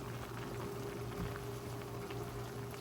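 Cauliflower soup boiling in a pot on the stove, a constant close bubbling and hissing simmer that holds steady without pause, alone with no talk.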